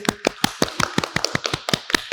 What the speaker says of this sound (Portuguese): Vamos dar um aplauso para vocês?